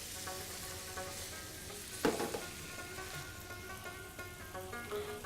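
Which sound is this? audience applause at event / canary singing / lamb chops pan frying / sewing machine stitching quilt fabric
lamb chops pan frying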